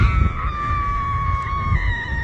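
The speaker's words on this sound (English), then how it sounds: "I had to run to the edge of this cliffside and scream extremely loud" A person screams extremely loud from a cliff edge in Ireland, one sustained high-pitched cry held for over two seconds with a slightly wavering pitch, over low wind rumble.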